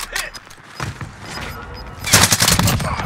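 Rapid bursts of video game gunfire, with a fusillade of crackling shots and machine-gun-like rattles, grow louder and denser toward the end of the passage.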